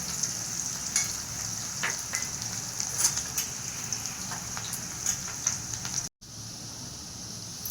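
Finely chopped onion frying in hot oil after byadgi chillies for a dhaba-style bottle gourd sambar, a steady close sizzle with scattered crackles and pops, a brief dropout near the end, no talking.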